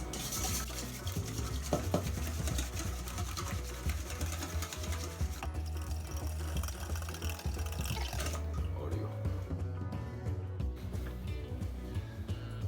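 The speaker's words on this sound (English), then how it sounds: "Now, the eggs are ready and we just stir them." Beaten eggs for a Japanese omelette are stirred in a bowl, giving rapid continuous whisking and clinking that runs for several seconds before it thins out. Faint background noise sits beneath it.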